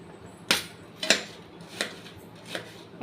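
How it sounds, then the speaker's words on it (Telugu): A knife strikes a cutting board while ingredients for egg curry are cut, four or five sharp, separate knocks spaced about half a second apart over a quiet background. "ఇప్పుడు వీటిని అయితే కట్ చేసుకుంటున్నాను"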